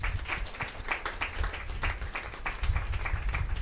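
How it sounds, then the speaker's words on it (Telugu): Applause from a church congregation at an Elohim Healing Ministries gathering, a steady, moderately loud spell of many hands clapping with dense overlapping claps across the whole stretch, swelling slightly near the end. "ఒకసారి చప్పట్లు కొట్టుకోండి"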